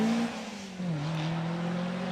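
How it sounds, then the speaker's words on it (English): A 4-cylinder Morgan racing up the Prescott hill climb, its engine note droning steadily at moderate distance, dipping briefly then settling back into a sustained pull. "Peter Hawkey follows in the 4-cylinder Morgan"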